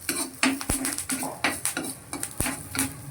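Coriander, cumin and fenugreek seeds with curry leaves frying in oil in a pan, heard as repeated close metallic clinks and scrapes of a spoon stirring in an uneven rhythm over a faint sizzle.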